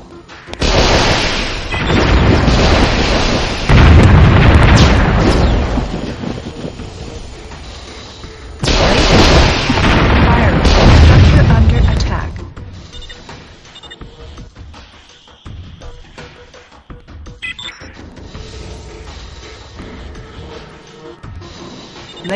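Laser satellite strikes in Warzone 2100 hit with two long, loud rumbling explosive bursts, each lasting a few seconds. Quieter crackling and rumble linger afterward.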